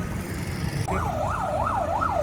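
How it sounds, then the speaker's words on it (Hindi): An ambulance siren wails through a city street during a weekend lockdown, its rising and falling tone cycling steadily and loudly over a constant low traffic rumble. "लगातार एम्बुलेंस की आवाज़, सायरन की आवाज़ शहर में देखने को मिल रहा है।"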